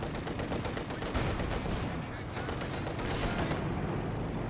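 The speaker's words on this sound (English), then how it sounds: "Artillery coming down on the Dushka here." Artillery and machine-gun fire in a strategy video game, shells landing on a Dushka heavy machine gun position; dense, continuous rattling bursts and booms throughout, with the battle noise filling the whole stretch.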